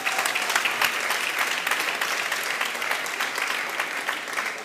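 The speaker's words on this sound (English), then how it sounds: "If you would give them another hand of applause." An audience at a leadership celebration applauds, with dense, steady clapping sustained throughout at moderate volume and no voices.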